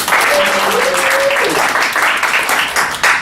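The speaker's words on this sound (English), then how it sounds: "So give yourselves a round of applause." Audience applause at a club's trainer development night, loud and steady dense clapping from a crowd with a brief tonal sound near the start.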